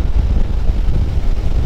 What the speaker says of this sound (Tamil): சும்மா சிலுன்னு காற்று அடிக்குது